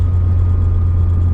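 Steady, loud engine drone and low rumble from a Peugeot 106 GTI, a late-1990s hot hatch, while driving, holding an even tone with no voices over it.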